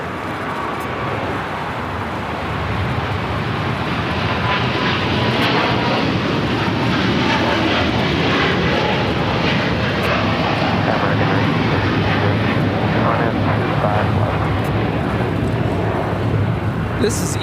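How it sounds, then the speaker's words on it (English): An Eva Air Cargo Boeing 777 freighter takes off from LAX bound for Taipei, a loud, sustained engine roar that stays steady and close throughout, with faint voices underneath. "This is Eva Air Cargo 611 taking off to Taipei on a 777 freighter."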